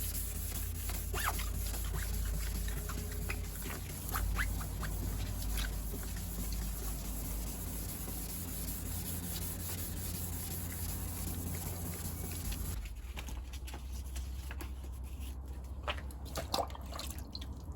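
A Renault Clio headlight lens is hand-sanded with fine grit wet paper, a continuous soft, close scratchy rubbing with faint wet swishes in a steady back-and-forth rhythm that quiets somewhat near the end.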